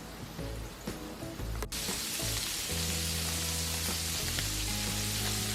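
Bubba Burgers frying on a Blackstone griddle give a steady, close sizzle with scattered pops and crackles, continuous and moderately quiet, with no voices.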